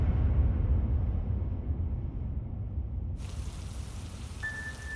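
Steady rain falls on a rainy morning in Blackbird, Delaware, as a constant dense hiss with no voices, and a thin high tone briefly joins near the end.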